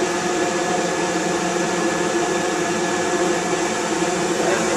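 The ECM blower motor of a Rheem RGRM 90+ two-stage gas furnace runs with a loud, steady broadband whoosh and hum, unchanging and close.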